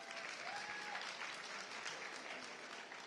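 An audience claps steadily throughout at a stage event, a dense, even wash of many hands without clear individual claps, moderately distant and fairly quiet.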